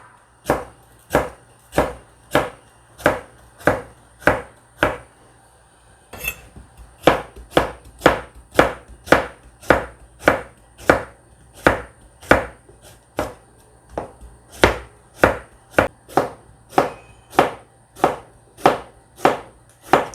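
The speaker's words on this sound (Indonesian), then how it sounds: "Ya paria, motongnya kayak gini ya." Bitter gourd being chopped with a knife on a board, about thirty sharp, evenly spaced chops close by, with one brief pause early on and no talking.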